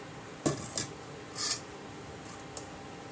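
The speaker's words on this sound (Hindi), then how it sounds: "ये मैंने डाल दी कीमा।" Minced meat going into noodles in a pan, a few short metallic clinks and scrapes of a utensil against cookware, spaced apart over a quiet background.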